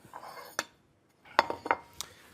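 A bowl being picked up among other dishes in a home kitchen, making a few sharp, close ceramic clinks and knocks spread over about two seconds, with a short quiet gap between them and no speech.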